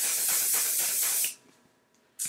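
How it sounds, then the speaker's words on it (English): A close, steady face mist spray hisses for just over a second, then cuts off into near silence before a brief final burst. "So let's spray the face."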